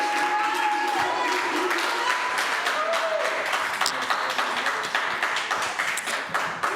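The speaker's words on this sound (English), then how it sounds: "clap them up to the stage" An audience at a live poetry slam claps steadily as poets come to the stage, a dense wash of applause that fades slightly toward the end, with voices talking over it.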